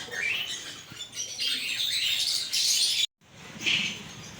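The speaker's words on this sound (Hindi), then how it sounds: "ये देखें जी कैसे कैसे कबूतर हैं यहाँ पर" Pigeons and other birds at a bird market chirp and twitter in bursts close by, with a brief dropout partway through and no one speaking.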